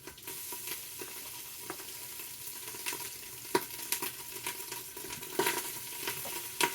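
Pieces of meat frying in hot oil in a pan, a steady close sizzle with scattered sharp pops and crackles, no voices.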